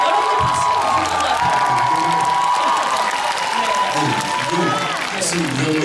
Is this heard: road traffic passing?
no